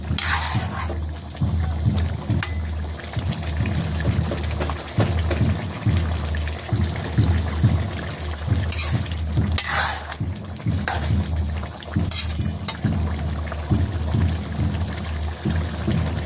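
Cumin paste goes into a pot of raw pumpkin curry and is stirred in a village kitchen, giving soft scraping, splashing and clinking of a spoon against the pan, steady and close, with no talk.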